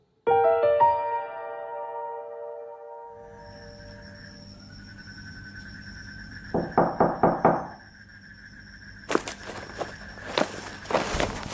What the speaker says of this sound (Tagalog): Nakarinig na lang po ako ng pagkatok